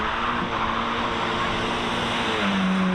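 A car pulls away near Dublin Airport, a steady mid-level engine rumble with a rising tone toward the end, heard alone without talk.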